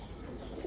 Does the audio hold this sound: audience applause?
no